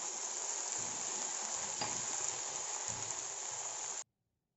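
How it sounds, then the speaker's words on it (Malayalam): A glass of boiling water is poured into a pot of immunity-booster soup, giving a steady hiss and sizzle, close and fairly quiet, that stops abruptly after about four seconds. "ഇനി ഞാൻ ഒരു ഗ്ലാസ് തിളച്ച വെള്ളം ഇതിലോട്ട് ഒഴിച്ചു കൊടുക്കുന്നുണ്ട്"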